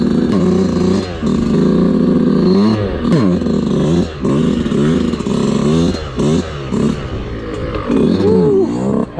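A 2022 125cc two-stroke dirt bike, a Yamaha YZ125 or Kawasaki KX125, revs hard over and over: loud, close, buzzy blips that rise and fall in quick bursts.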